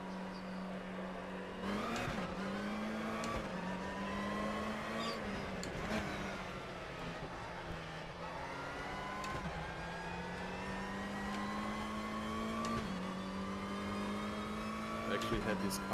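Race car engines in the RaceRoom racing game hold a steady, droning whine that rises and dips with brief shift breaks, while a person talks over the engine sound.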